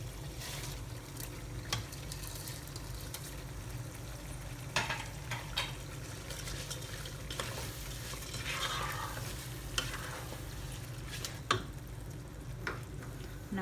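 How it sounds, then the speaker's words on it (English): Rice and coconut milk are stirred in a pan of prawn pulav over a low, steady sizzle, with scattered scraping clicks from the spoon, fairly quiet and close. "Now it's time to add our rice and coconut milk."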